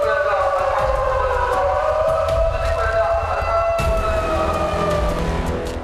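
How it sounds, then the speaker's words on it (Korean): A loud, sustained evacuation siren wails steadily inside a tunnel at a construction site before blasting, echoing with a low rumble beneath. "그 시각 터널 내부에도 대피를 알리는 사이렌이 울린다"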